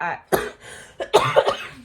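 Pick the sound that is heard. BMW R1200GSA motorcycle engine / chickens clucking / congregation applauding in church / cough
cough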